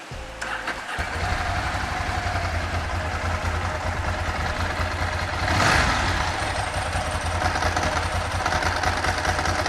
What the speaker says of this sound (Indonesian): Sekarang kita coba nyalain motornya.